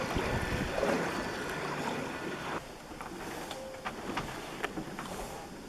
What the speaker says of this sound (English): you can hear the whir of the motor, the electric motor, powered by solar.